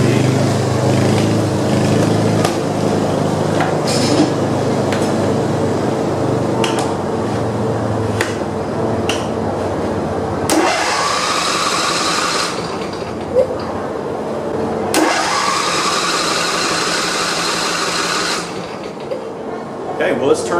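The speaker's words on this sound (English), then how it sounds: "Okay, well, it's turning over." A John Deere lawn tractor engine cranks and turns over, a steady loud mechanical churn running throughout with louder bursts near the end, while a person talks over it.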